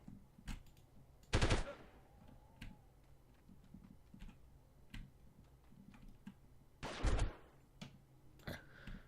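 M4 rifle gunfire in the 1998 game Delta Force: two sharp bursts of shots stand out, with scattered single clicks and pops between them in a quiet setting.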